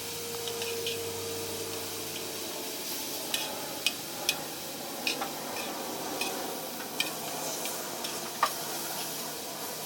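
Pork sears in a cowboy wok, a soft, steady sizzle with a low hum at the start and scattered sharp ticks and pops throughout, fairly quiet overall.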